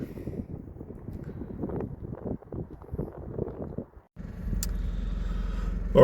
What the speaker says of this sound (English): in the car we've just come off the parking spot we're at